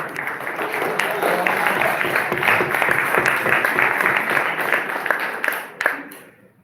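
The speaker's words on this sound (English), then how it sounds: "I'm gonna clap too" Mourners clapping at a celebration of life, a sustained, fairly loud round of applause that thins out and fades near the end.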